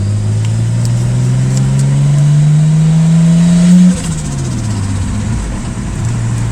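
Nissan Stagea RB25DET engine with an upgraded fuel rail, injectors and fuel pressure regulator revs loudly and rises in pitch up close, then drops off sharply and settles into a rough idle with smaller blips.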